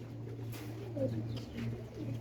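Female pigeons of an old breed coo softly in a short run of low, rolling calls, close by, over a steady low background hum, with no voices.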